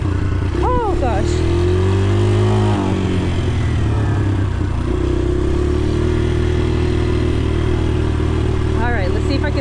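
A dirt bike engine on a family desert ride revs and drones loudly and close throughout, with pitch rising and falling as the rider works the throttle, while people talk over it.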